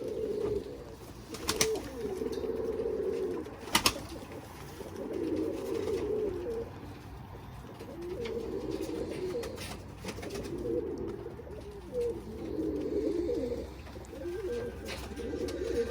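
Pigeons coo after a flight, with repeated low throaty calls in rhythmic bursts every few seconds, plus a couple of sharp clicks or wing sounds nearby.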